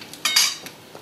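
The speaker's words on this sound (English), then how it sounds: "stir it so that you see that it's all one constituency right through the rice" A metal spoon scrapes and clinks against a pot while jollof rice is being stirred, two quick bright scrapes followed by fainter taps, close and alone.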